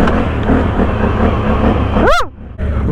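A 2021 Can-Am Outlander XMR 850 ATV engine roaring steadily up close, then one sharp rev rising and falling quickly before cutting off into near silence and picking back up.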